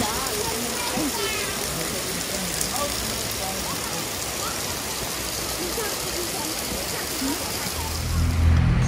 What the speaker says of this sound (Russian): Такой вот водопадик.